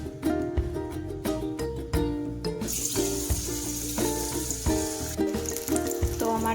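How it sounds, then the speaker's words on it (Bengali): Food frying in hot oil during home cooking for a Hanuman Jayanti meal, a steady sizzle running under clattering utensils and repeated sharp knocks. "এখন এটা ভাজা হচ্ছে"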